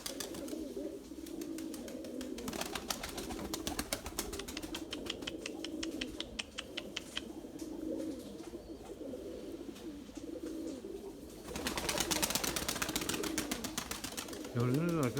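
Breeding pigeons on a rooftop coo in soft, overlapping rolling calls, with wingbeats and a rapid clattering burst partway through; someone talks over them at times.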